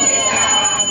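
Temple bell ringing at a Durga puja in a Bangalore Durga temple, a dense continuous metallic clang with crowd noise around it, loud and close.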